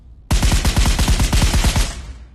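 A WWII firearm in the VR shooter Pavlov fires a rapid automatic burst of about fifteen loud, evenly spaced cracks, starting abruptly and ending with a short fading echo.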